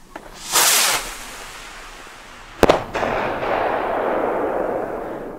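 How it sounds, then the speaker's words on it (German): A Headbanger firework rocket whooshes up, then bursts with a sharp, loud bang followed by crackling and a long fading rumble outdoors, with no talk. "Und zwar die Headbanger-Knallrakete von Leslie."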